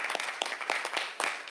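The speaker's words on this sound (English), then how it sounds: "Join me in giving them a round of applause because they deserve it." A school district legislative meeting audience giving a short round of applause, scattered hand claps from a modest crowd in a room, brief and moderately loud.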